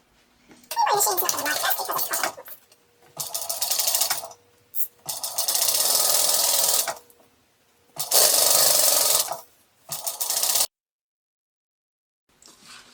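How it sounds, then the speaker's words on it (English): Sewing machine running in several separate bursts as it stitches the top of a fabric tote bag, with loud fast mechanical whirring close by and short pauses between runs. "I'm just going to sew down the top"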